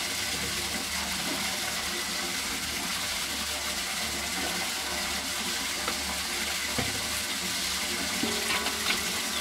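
Water runs steadily while clothes are washed by hand, a continuous close wash of splashing and hiss with occasional soft knocks, no voices.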